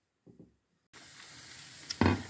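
Zazharka fry-up for soup hitting a hot pan, with a sudden loud sizzle that starts after a brief quiet knock and keeps hissing steadily, swelling louder near the end.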